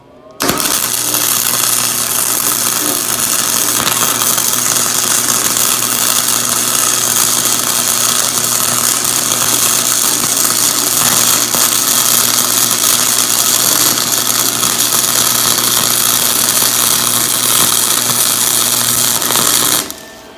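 Electric welder laying a bead to attach a handle onto a sledgehammer head, a steady loud buzzing crackle running continuously for about nineteen seconds with a constant hum underneath, no talking.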